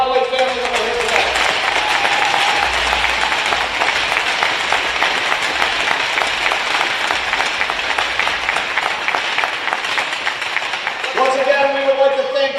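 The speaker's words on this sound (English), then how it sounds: "Let's have a nice round of applause for the Copperway family that we're here tonight." A crowd at an ice hockey game applauds the Copperway family, dense sustained clapping filling the arena from start to finish, with a voice talking over it at the opening and again at the close.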